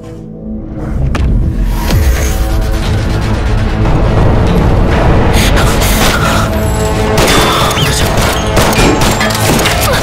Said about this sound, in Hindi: गुंडों ने वहां से गोली चला दी।